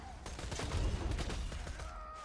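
A Vladoff sniper rifle fires in the video game Borderlands 2, with a short cluster of loud, booming shots that overlap into one dense burst and then fade.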